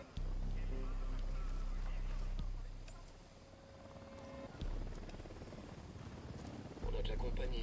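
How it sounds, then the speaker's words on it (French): Helicopter arriving in the video game Ghost Recon Wildlands, a steady low rotor rumble that dips in the middle and swells back up, heard under game sounds and voices. "un hélico qui arrive"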